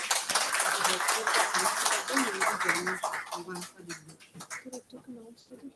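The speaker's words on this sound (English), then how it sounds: "Let us welcome our dignitaries with a round of applause." Audience at an alumni industry-academia conclave applauding to welcome dignitaries: clapping fills the first few seconds fairly near, then thins and fades as a voice talks over the tail end.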